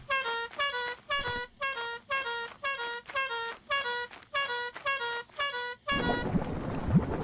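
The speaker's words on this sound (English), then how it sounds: "Follow the sound of my horn." A horn in the video game Lethal Company blares in about eleven evenly spaced honks, loud and close, then breaks into rumbling noise at the end.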